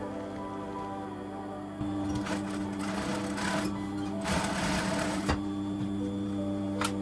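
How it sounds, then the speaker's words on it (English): Sewing machine stitching the neckline of a kameez with lining, a steady close mechanical whir that steps up in loudness partway through and runs alone without talk. "Now I'm going to stitch the neckline."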